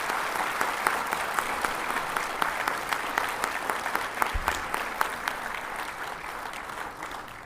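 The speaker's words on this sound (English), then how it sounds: "Please give a warm round of applause." A courtroom audience at a farewell function for a Supreme Court judge gives a warm round of applause, dense steady clapping from many hands at a moderate distance, sustained throughout without speech.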